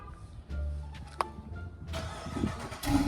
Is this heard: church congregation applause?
no